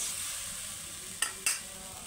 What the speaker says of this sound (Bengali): মশলাটা বেশ খানিকক্ষণ হাতে সময় নিয়ে কষতে হবে